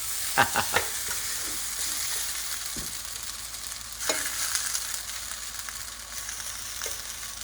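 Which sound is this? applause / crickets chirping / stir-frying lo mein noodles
stir-frying lo mein noodles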